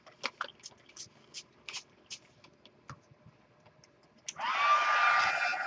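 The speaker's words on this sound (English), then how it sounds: "If you're down at the end of your bottle, find where your nozzle hits the bottom and turn your sprayer towards it." A series of short, sharp sprayer spurts of Moon Shadow Mist, about a dozen irregular puffs close by, followed by one longer, sustained hissing spray that runs to the end.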